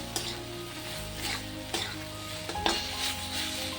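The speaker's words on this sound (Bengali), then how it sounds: "এখন পেঁয়াজ রসুন মশলা দিয়ে আলু দিয়ে এখন ভালো করে কষিয়ে নিচ্ছি মশলাটা" Potatoes sautéing in a pan with onion, garlic and spices: a steady close sizzle with repeated spoon scrapes and stirring knocks against the pan every second or so, no voices.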